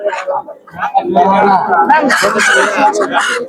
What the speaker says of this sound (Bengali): এই যে এখানে দেশি মুরগি আছে